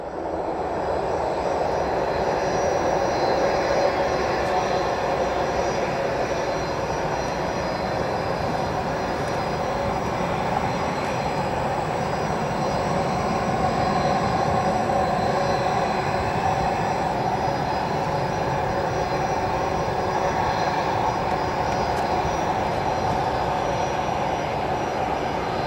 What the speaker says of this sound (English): See that Swiss departing with the Lufthansa A340